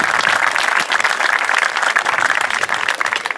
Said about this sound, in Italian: vi chiedo di voler fare un applauso